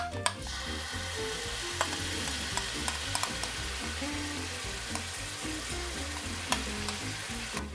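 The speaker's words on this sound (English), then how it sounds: "In a low heat, we're gonna put the sauce in there." Fermented red beancurd sauce sizzles in oil with diced ginger in a wok over low heat, a steady close frying hiss carrying on with scattered spatula clicks and scrapes throughout.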